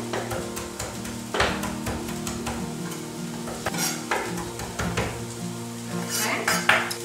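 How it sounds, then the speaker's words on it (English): A knife roughly chops parsley on a board for a frittata, giving a few irregular, close knocks and scrapes over background music. "And we'll just give this parsley a rough chop."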